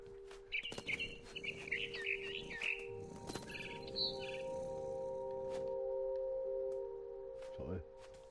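Chirping bird calls from the What Remains of Edith Finch game, a scared bird fluttering in bursts of high tweets over a low steady hum, with a talking voice in the background.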